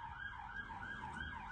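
Police sirens wail continuously, rising and falling in a steady repeating cycle, loud and near with a low rumble of traffic beneath and no talk.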